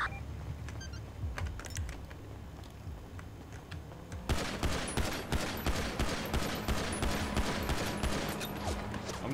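Rapid video game gunfire erupts after a few quiet seconds, a loud, sustained burst of repeated sharp shots in a fast rhythm, preceded by lighter clicks and faint background sound.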